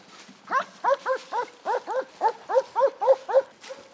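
A nine-year-old search and rescue dog from the emergency service in the Chernihiv region barks in a forest. About a dozen sharp, evenly spaced barks come in a quick run, close and clear with no talk over them.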